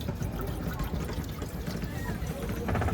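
Water pours steadily into a pan with a rushing, splashing trickle, close by, rising slightly in level near the end.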